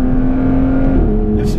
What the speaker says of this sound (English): This is a totally stock exhaust.